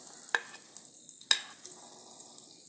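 Hot oil in a pan sizzling softly as onions and dried chillies go in, with a few sharp clinks and clatters of utensils against the pan over a quiet frying hiss; no talking.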